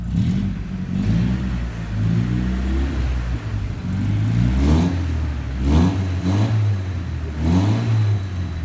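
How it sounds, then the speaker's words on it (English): A Datsun 180B engine revs in repeated blips, roughly five or six rising and falling surges over a steady idle, loud and close with no talking. "Gasan mo siya bro. Kasi kulang siya sa gas."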